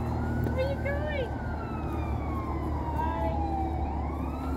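A siren wails in long rising and falling sweeps, fairly loud over steady low traffic rumble, with a brief chirpy voice-like sound early on.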